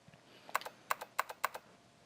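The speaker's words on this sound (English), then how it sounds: "See? The keyboard." Computer keyboard typing in the video game 999: a short burst of crisp key clicks, about four paired taps in an uneven rhythm, faint and isolated against quiet.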